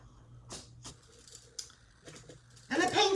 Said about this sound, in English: And the paint stick's cut with scissors.